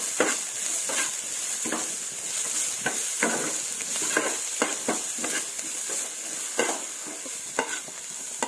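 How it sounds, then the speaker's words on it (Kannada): Onions and green chillies fry in oil in a pan and are stirred, giving a constant loud sizzle broken by repeated scraping strokes of the spoon at an uneven rhythm. "ಹಸಿಮೆಣಸು ಕೂಡ ಫ್ರೈ ಆಗಬೇಕಾ?"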